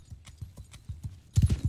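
Horses gallop in Mount & Blade 2, a steady run of clip-clop hoofbeats that swells into heavy, louder thuds near the end as the mounted charge closes in.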